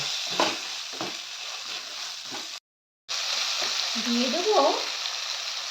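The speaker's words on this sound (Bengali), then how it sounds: "এটাকে ভালোভাবে একটু ভাজা করে নেব" Boiled potato pieces and cauliflower for a samosa filling fry in a pan with a steady sizzle, stirred now and then, with a short silent gap midway and a voice speaking briefly over the cooking.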